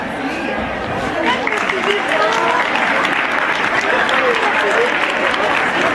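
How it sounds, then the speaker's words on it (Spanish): Audience applause at a school recitation contest honouring Tacna, a dense steady clapping from a crowd that holds at full loudness for the whole stretch, with murmured chatter beneath it. "Fuerte los aplausos para Fabiola Gutiérrez"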